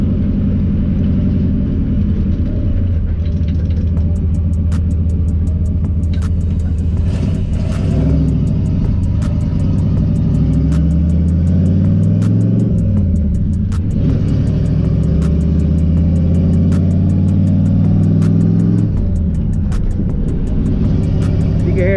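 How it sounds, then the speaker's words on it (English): A turbocharged Ford Foxbody rumbles and revs steadily while being driven, the engine loud and close throughout, with faint turbo whistle and flutter over the low drone and no talking. "Turbo a little bit, nice little turbo noise."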